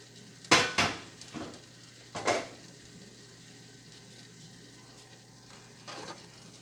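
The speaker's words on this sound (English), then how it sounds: "I'm going to take this big skillet and I'm going to transfer what's in my deep pot into this skillet" Food is scraped and spooned from a deep pot into a big skillet. Two sharp metallic clanks come first, then a louder clatter, then a fainter knock near the end, with quiet stirring and shuffling between them.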